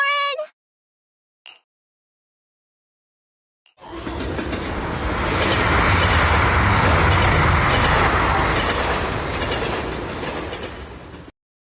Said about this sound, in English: the train is about to enter the tunnel